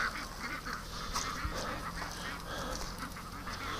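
A flock of juvenile ducks being herded out of the water, their busy quacking and chatter running continuously over a dense outdoor background at moderate distance.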